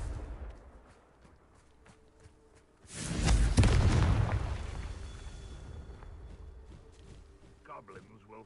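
A Confringo fire spell explodes in Hogwarts Legacy with a sudden loud blast that rolls into a long, fading roar, with quieter footsteps and game sounds around it.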